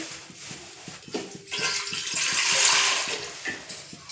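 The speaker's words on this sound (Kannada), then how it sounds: "ಒಂಚರಿಗೆ ನೀರು ಹಾಕೋರಿ" Water pours steadily into a cooking pot in a home kitchen, a continuous splashing stream that swells louder midway, with faint knocks and clatter underneath.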